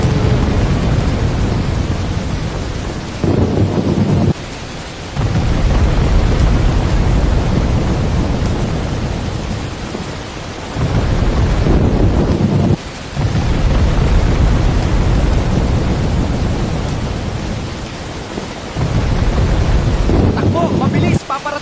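A typhoon roars with heavy wind buffeting the microphone, rumbling thunder and rain, loud and continuous with a few sharp breaks in the noise.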